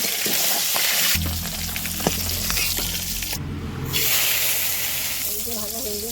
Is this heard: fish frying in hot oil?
yes